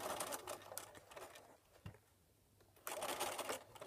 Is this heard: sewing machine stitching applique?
yes